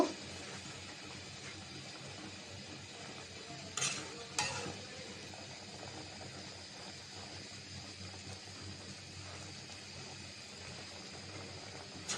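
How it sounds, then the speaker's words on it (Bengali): Sweet potato greens with shrimp being stirred in a frying pan, a soft continuous sizzle with gentle scraping, and a couple of brief louder clatters near the middle; no talk. "শাকটা আমি একটু নাড়াচাড়া দিয়ে দিব"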